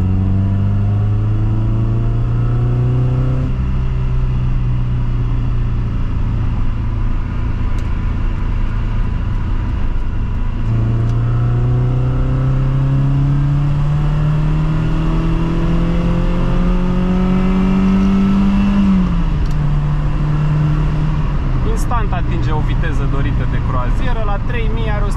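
A BMW E21, an old analog car with no ESP or ABS, revs and pulls through the gears while driving. The engine drone rises steadily in pitch and is loud and close throughout.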